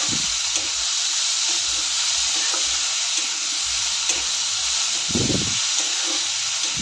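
Steady, close sizzling hiss of chopped green beans sautéing in a hot pan, with soft periodic scrapes and stirring knocks from the spatula under the constant frying.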